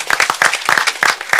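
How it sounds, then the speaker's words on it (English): Applause from a small audience at a city commission meeting, following a student introduction; a short burst of clapping in uneven clusters, fairly close and moderately loud, with no voices. "Give me a round of applause."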